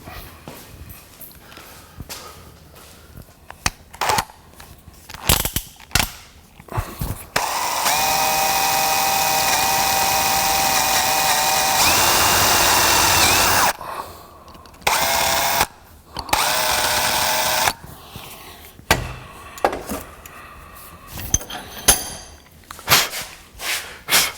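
A power drill with a number 31 bit whirs steadily for several seconds, enlarging the orifice of a valve from a 2003 Chevrolet Silverado 4L60E transmission, with shorter bursts of drilling before and after, close and loud, with no talking.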